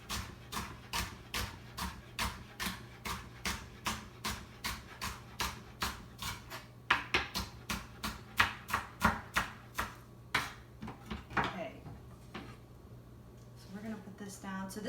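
A knife chops rhubarb stalks on a cutting board in steady, fast rhythmic strokes, close and crisp, with a short pause near the end before a few final cuts; a low hum sits underneath.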